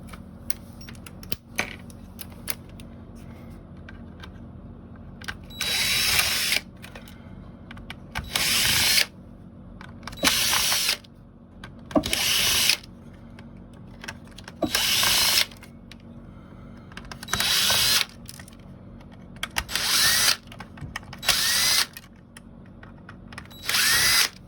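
A power driver whirs in repeated short bursts, about ten spaced bursts with pauses between them, close and clear, as T6 screws are backed out of a Nissan touch-screen unit.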